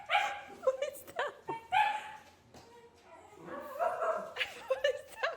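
A small dog barks and yips repeatedly in close, loud bursts with whiny, vocal tones, pausing briefly between volleys.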